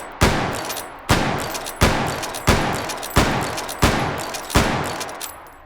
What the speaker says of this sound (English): you can fire lever action guns faster than bolt action guns, reliably now